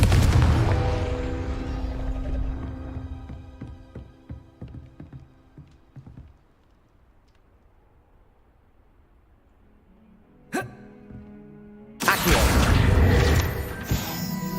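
Confringo blasts fired in Hogwarts Legacy on PC: a loud burst of crashing impacts that fades over several seconds into a quiet stretch, then a sharp crack and a second heavy explosive eruption near the end.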